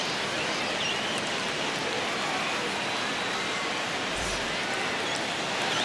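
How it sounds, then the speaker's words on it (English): Steady rain pours over a baseball stadium in MLB The Show 26 as a game heads into a rain delay, a dense, even hiss that stays loud and unbroken throughout. "we're going into a rain delay, and I have a feeling this is going to be a long break, Singy."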